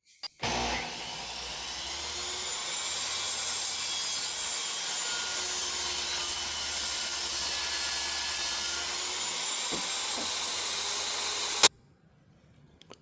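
Table saw whines steadily while cutting a locking rabbet joint in wood, one continuous loud run of about eleven seconds that ends abruptly, followed by near silence.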